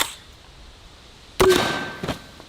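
A shot from an X Products Can Cannon aimed at a water jug: a sudden sharp blast followed by a short decaying rush and a second smaller impact, fairly close, with no talk.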